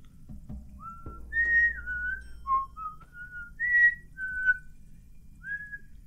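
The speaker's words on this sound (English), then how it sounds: "I don't know how the whistling's picking up, so I should probably stop." A person whistles a slow tune alone, a series of clear sustained pure notes that rise and fall with short gaps, fairly close, with soft background noise and a few low thumps.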